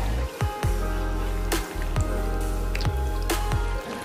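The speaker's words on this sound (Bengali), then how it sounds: "এবার আমি টাওয়েলটাকে এই জলটার মধ্যে ডিপ করব।" A towel being dipped into hot water in a bowl, giving wet squishing and dripping sounds with a few sharp splashy drips over a steady background hum, close and fairly loud.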